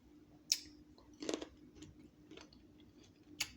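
Someone chews a green seedless grape close to the mic, with a few crisp, wet crunches and soft chewing sounds spaced out over the moment.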